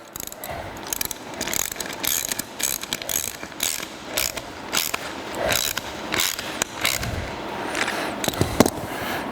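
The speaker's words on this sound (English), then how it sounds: "And our hex nut, and then we want to tighten that down till it compresses the lock washer." A ratchet wrench tightens a hex nut down onto a lock washer while fitting hitch-mounted mud flaps, giving close, repeated bursts of rapid clicking with short pauses between strokes.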